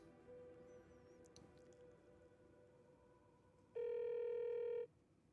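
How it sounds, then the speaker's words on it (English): A telephone rings once in Alan Wake 2, a loud electronic ring of about a second that follows a quiet, low ambient hum and a few faint clicks. "Is it gonna end with the ringing?"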